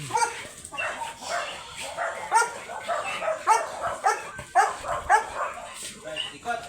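A Labrador dog yips and whimpers in short repeated bursts during a stud session, close by, mixed with people talking.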